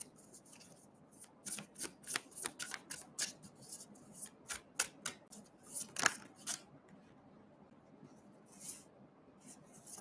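Tarot cards being shuffled in a quiet room, a rapid run of crisp riffling snaps and soft slaps that is busiest early, peaks near the middle and thins out toward the end, with no talking.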